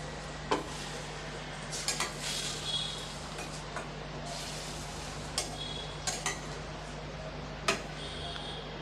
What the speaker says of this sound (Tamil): ஒரு ரெண்டு நிமிஷத்துக்கு இந்த மசாலாவிலேயே நல்லா இதை வறுத்து விடலாம்